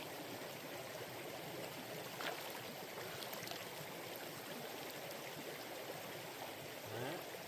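Steady rushing and babbling of a stream flowing continuously, an even wash of water noise with no voices.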